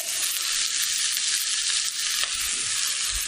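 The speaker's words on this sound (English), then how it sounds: "In with your onions. Wilt your onions down." Onions sizzling in clarified butter in a pan, a steady bright crackling hiss throughout with a few louder pops and stirring scrapes, close and continuous.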